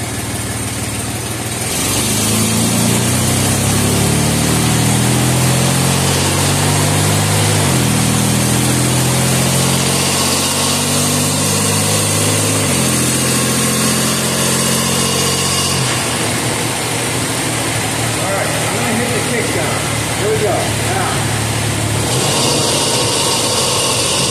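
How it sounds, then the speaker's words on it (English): Ford vehicle with a C6 automatic transmission running up through the gears, the engine droning loudly as revs climb and then drop at each shift, three or four distinct steps, heard close with no talking. "I'm going to put it in gear. And I'm just going to make a run through the gears."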